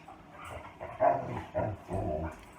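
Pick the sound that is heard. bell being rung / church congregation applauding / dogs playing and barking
dogs playing and barking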